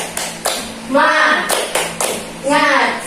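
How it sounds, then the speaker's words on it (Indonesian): A classroom of children does a rhythmic spirit clap, sharp tapping bursts in groups, mixed with kids' chanting voices rising over the claps. "Tepuk semangat."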